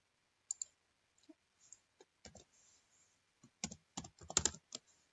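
Typing on a computer keyboard while entering text in Canva, sparse clicking keystrokes in short irregular clusters, close and quiet with no talk.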